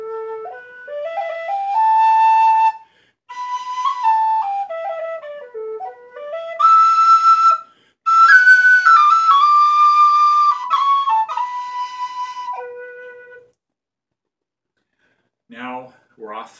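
A homemade A-body Irish whistle plays a clear, sustained melody with pure, breathy tones and ornamented note changes, heard alone and up close for about thirteen seconds before a short pause.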